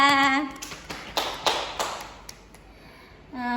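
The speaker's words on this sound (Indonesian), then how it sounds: "tepuk tangan untuk dia" Third-grade class in a lesson clapping for a classmate, a few separate claps in a loose rhythm between brief bits of voice.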